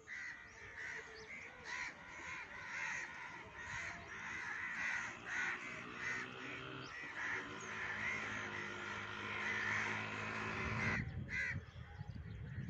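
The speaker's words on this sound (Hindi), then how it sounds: "कौवे कौवे बड़े घूम रहे हैं।" Several crows caw repeatedly in the open air of a Punjab village countryside, harsh overlapping calls at moderate distance forming a steady chorus, with no talk heard.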